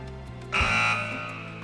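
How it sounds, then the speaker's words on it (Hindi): A quiz show buzzer sounds once on a Ramadan special religious quiz, a single loud electronic buzz lasting about half a second over a quiet hum. "तो मैं बज़र्स एनेबल कर रहा हूँ।"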